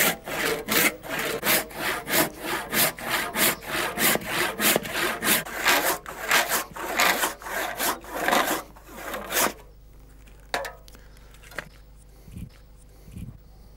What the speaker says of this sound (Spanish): ahora voy a pegar unos cortes aquí con el serrón